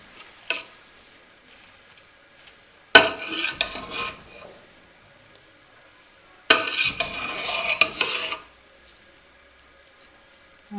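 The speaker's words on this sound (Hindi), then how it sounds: "अब इसमें अच्छी तरह चम्मच हिला दें।" A spoon stirs cooked chicken and pea pulao rice in a pot, heard as two scraping bursts of about two seconds each, with a few light clinks between them and quiet stretches in between.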